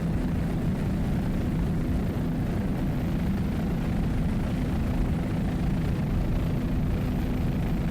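A Mercury-powered racing powerboat with twin 750 hp inboard engines at the 2002 Key West World Championships gives a steady, loud engine roar that drones on without a break.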